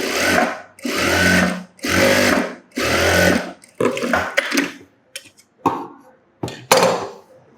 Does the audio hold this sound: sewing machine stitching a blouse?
yes